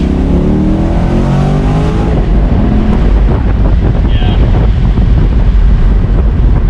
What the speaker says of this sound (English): it sounds and it feels like a traditional Chevy small block